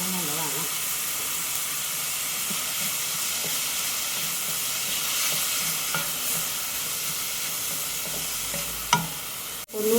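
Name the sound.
curry leaves frying in pan for Kerala pig fry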